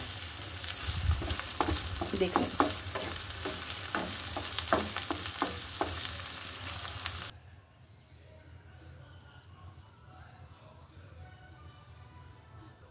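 A banana stem dish fries in oil as its water cooks off, with a busy close-up sizzle and crackle that suddenly drops to a faint, quiet hiss partway through, and a voice speaks briefly.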